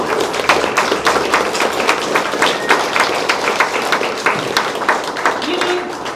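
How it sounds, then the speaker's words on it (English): An audience at a panel discussion claps steadily for several seconds, a dense patter of many hands at moderate loudness with no talk over it. "And Daisy, can we just have a huge round of applause for the Duty of Care advice?"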